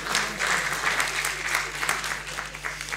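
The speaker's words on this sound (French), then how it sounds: "que je vous demande d'applaudir" Steady applause from an audience, a dense patter of many hands clapping throughout, moderately distant.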